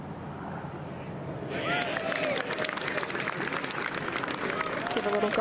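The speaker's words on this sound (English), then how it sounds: "little golf clap there." Polite golf gallery clapping on the 8th green at the 2025 PGA Championship follows a birdie putt. After a quiet opening comes a steady, moderately loud patter of many hands from spectators around the green.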